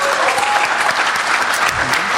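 Loud, dense applause from an indoor crowd, continuous clapping throughout with a few voices mixed in.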